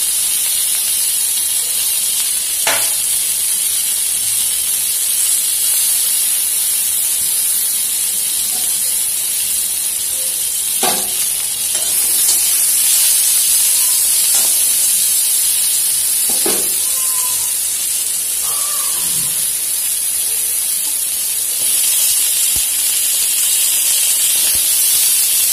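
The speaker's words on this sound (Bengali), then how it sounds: "একটু অল্প একটুখানি তেল দিয়ে পাশে পাঁচফোড়নটা দিয়ে দেবো।" Panch phoron and a bay leaf sizzle in a little oil, a steady close hiss of frying carrying on throughout with occasional small pops and clicks, no voices.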